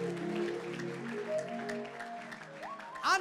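A church congregation claps along during a worship service, a quiet, steady patter of many hands heard together with singing or music.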